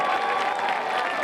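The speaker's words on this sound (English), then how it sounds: "Let's have a big round of applause for our 2024 Senior" A stadium crowd at a 2024 high school football senior night claps and cheers for the senior JROTC color guard, a brief, distant wash of applause with a faint tone ringing through it.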